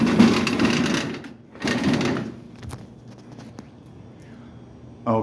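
Aluminum storm shutters on a condo slide along top and bottom tracks, giving two loud rolling scrapes close by followed by quieter settling and a final clunk.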